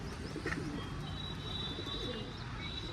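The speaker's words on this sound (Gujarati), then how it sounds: "આપણું આ લાલ કબૂતર ગુગે છે" A red pigeon cooing at a rooftop loft, soft low coos repeating over steady background noise with a few faint chirps, fairly quiet and without talk.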